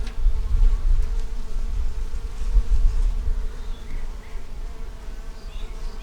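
Honey bees hum steadily and closely around a newly set up nuc hive, a dense, continuous drone that swells and fades a little as they move, with no voices.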